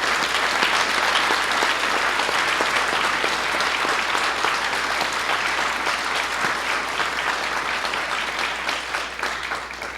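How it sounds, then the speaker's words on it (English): A large audience gives a sustained, loud round of applause for honorees at a 2010 Hall of Fame induction ceremony, dense clapping filling the room and tapering slightly toward the end. "Please join me in giving our honorees one more round of applause."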